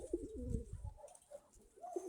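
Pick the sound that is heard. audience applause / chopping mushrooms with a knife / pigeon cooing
pigeon cooing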